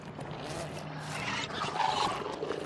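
A creature in the video game Robinson: The Journey roaring at other animals, a rough growling roar that swells and rumbles over about three seconds amid game ambience.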